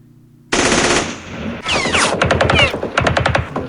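Recoilless rifle and machine gun fire in a Vietnam war video game at Khe Sanh: after half a second of silence, loud sustained gunfire starts, with a dense stretch followed by rapid, evenly spaced bursts.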